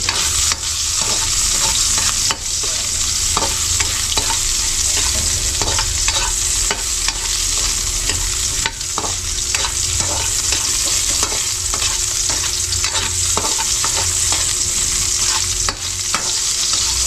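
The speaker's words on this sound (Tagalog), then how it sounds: "Sasangag muna natin ang taba dahil mamantika po yan." Pork fat frying and rendering in a pan, a loud, continuous sizzle and crackle with frequent spatula stirring and scraping throughout, no voices.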